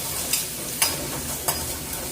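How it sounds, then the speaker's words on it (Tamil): Chopped onions sautéing with chillies in a pan, a soft steady sizzle broken by three sharp scrapes of a stirring spoon against the pan. "வெங்காயம் நல்லா வதங்கட்டும்."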